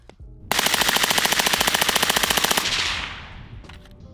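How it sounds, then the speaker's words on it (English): An AR-15 rifle fitted with an FRT Arcfire forced-reset trigger fires a long, fast string of roughly thirty evenly spaced, loud shots over about two seconds, then the report rings and fades away outdoors. "This is how, in my opinion, a perfectly tuned FRT AR-15 should run."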